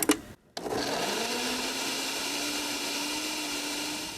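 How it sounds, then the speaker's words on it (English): A blender whirs steadily at high speed, mixing almond milk after a brief clatter and pause, loud and close with a constant tone that rises slightly as it runs. "Then you pour some almond milk into the blender."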